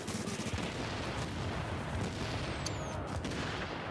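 45 ACP pistol fire in Tom Clancy's The Division 2, a faint, busy stretch of rapid gunshots and crackling bursts running steadily under game ambience.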